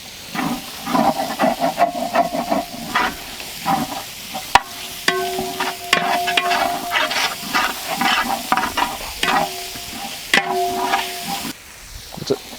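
Onions, shallots, ginger and garlic fry in a pan with steady loud sizzling, broken up by repeated stirring scrapes and clatter from the utensil, with no talking.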